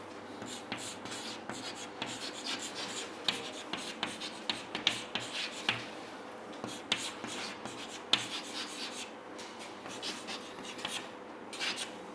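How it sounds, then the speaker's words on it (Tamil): Pen scratching steadily across paper as an English sentence is written out, close and continuous, with short strokes and small taps in an irregular rhythm and no talk. "அது என்னன்றதை எழுதுகிறேன் பாருங்கள்"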